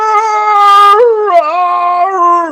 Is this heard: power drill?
no